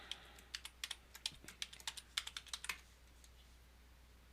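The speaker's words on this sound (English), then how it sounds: "So I enter my password." A password is typed on a computer keyboard in a quiet room: about twenty crisp key clicks in an uneven, fairly quick run lasting under three seconds, then silence.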